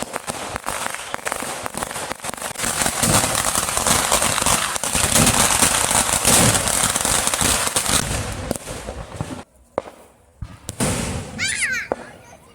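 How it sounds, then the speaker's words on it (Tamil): Dense firecrackers crackle and pop continuously around a Kerala temple at night, loud and close, with voices and children heard in the mix before the bursts thin out near the end. "சுற்றி ஃபுல்லாக பட்டாசு மழையாக தான் இருந்துச்சு"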